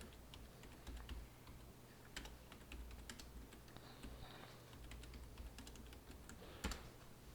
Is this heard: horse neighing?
no